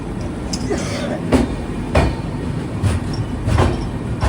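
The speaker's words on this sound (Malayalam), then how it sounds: "ട്രെയിൻ ഇത് ആന്ധ്രാപ്രദേശിലെ വിശാഖപട്ടണം റെയിൽവേ സ്റ്റേഷനിലേക്ക് എത്തുകയാണ്" The Vivek Express rolls into Visakhapatnam railway station in Andhra Pradesh, its heavy wheel rumble and intermittent clanks and squeals passing close and loud, with a faint voice in the background.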